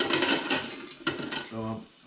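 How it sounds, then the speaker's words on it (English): Metal bolts clink and rattle as a basket of them is handled, a few sharp close clatters and jingles, ending with a brief hum. "I'm going to take this basket of bolts here"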